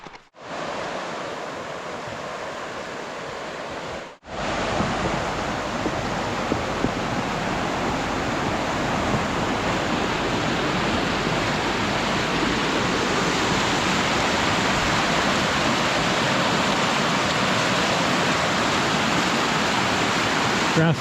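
Rushing water from Roushtown Creek, a raging mountain creek in Ravensburg State Park in snowy winter conditions, roars steadily and loud after a short break early on, a dense continuous wash of noise.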